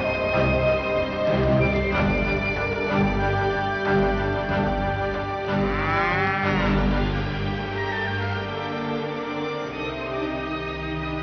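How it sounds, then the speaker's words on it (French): A cow moos repeatedly in long, low, drawn-out calls, loud and close, with no talking. "J'ai sélectionné la plus belle vache du troupeau de Johnny"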